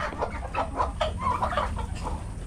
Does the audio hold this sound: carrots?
no